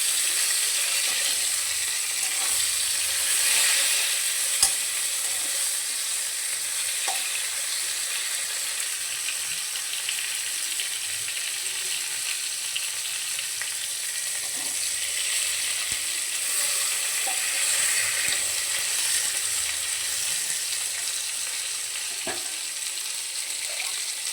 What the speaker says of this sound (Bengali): এরপর এর মধ্যে দিয়ে দেব সর্ষের আর কাঁচা লঙ্কার পেস্টটা।